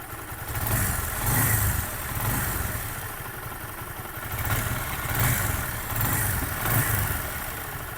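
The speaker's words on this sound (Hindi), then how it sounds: "अब इंजन का साउंड भी मस्त मोला मक्खन आ रहा है।" A TVS Apache 160 BS4 motorcycle engine idles close by after an engine rebuild, a steady chugging putter with slight rhythmic swells in loudness.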